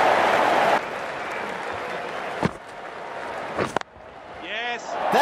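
A crowd in the cricket video game Ashes Cricket 2019 applauds a boundary four with a loud burst of clapping and cheers that drops back to a lower murmur, with a few sharp knocks and a voice at the end.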